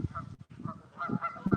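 Geese honk in a rapid string of nasal calls, several overlapping bursts close by and moderately loud, with no talking.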